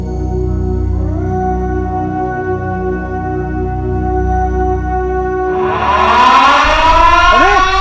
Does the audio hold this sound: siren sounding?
yes